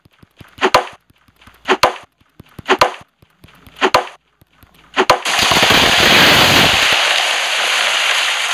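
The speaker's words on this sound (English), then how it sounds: "I think we gotta get chopping." Trees being chopped in a forest survival video game: five sharp, evenly spaced axe strikes about a second apart, then a loud sustained crashing rush as a tree falls.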